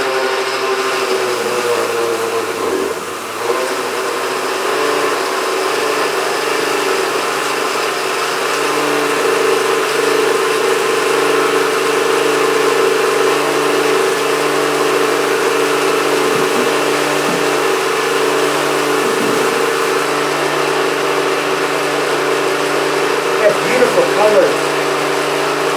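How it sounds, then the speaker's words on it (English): A blender runs steadily on its low puree setting, blending watermelon soup with a constant motor whir that holds nearly unchanged for the whole stretch, loud and close. "we're going to set our blender to puree, okay, which is a low speed"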